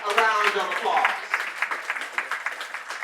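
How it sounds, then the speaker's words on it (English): An audience at a community African American Read-In applauds the children, the steady clapping swelling and continuing under overlapping voices and talk. "Let's give them a round of applause."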